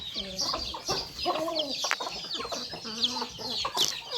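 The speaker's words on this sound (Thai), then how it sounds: "ไล่จับไก่" Chickens being chased cluck and squawk excitedly at close range, a flurry of overlapping calls with a few sharp cries standing out.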